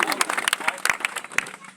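A crowd at an outdoor political speech claps in a quick burst of sharp, uneven hand claps lasting under two seconds, fairly close and moderately loud.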